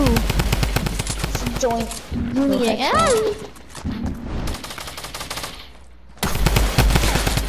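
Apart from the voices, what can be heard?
gunfire from guns in the video game Fortnite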